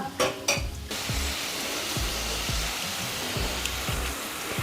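Tomatoes and onions sautéing in a pan, a steady sizzle with a few scrapes of a spoon against the metal, close and continuous with no voices.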